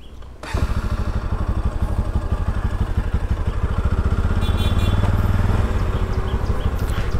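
A motorcycle rides near the Sharavathi bridge on a Kundapura–Sagara route, its engine starting abruptly and then running steadily and loud and close, with a throbbing mid-range drone and some clatter throughout.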